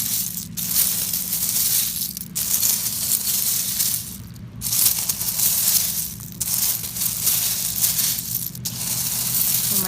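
Washed-up seashells on a beach after a storm are sifted by hand, producing a constant close crunching and clinking of shells. The rattling rises and falls in several waves, and no one speaks over it.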